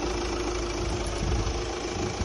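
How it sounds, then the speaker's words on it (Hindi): A car engine idles just after being started, giving a steady, loud, low rumbling hum with a faint knocking texture, heard close and without speech. "तो ये हमारी गाड़ी स्टार्ट हो गई है।"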